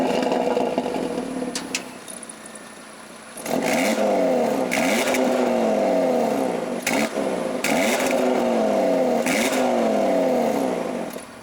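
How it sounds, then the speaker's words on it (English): A 2019 Audi RS3 five-cylinder engine with a sport exhaust revs hard several times, rising and falling loudly nearby, with a raspy, burbling tone between blips. "I'll let you guys hear what that 5-cylinder sounds like really quick."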